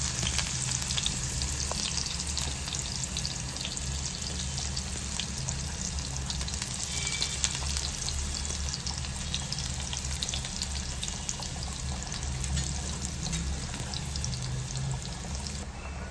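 Chopped onion fries in hot oil with a loud, unbroken sizzle that holds steady for the whole stretch, with no talk over it.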